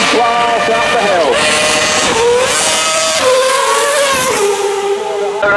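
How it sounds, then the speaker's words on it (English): A Red Bull RB8 Formula 1 car spinning donuts in front of Goodwood House, its engine screaming and revving up and down in loud wavering sweeps, with crowd or commentary noise mixed underneath. "Red Bull RB8, will turn up some donuts in front of Goodwood House and then blast up the hill."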